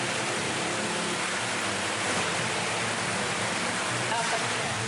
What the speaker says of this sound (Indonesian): Hujan deras disertai angin kencang dan petir melanda seluruh wilayah di Kabupaten Maros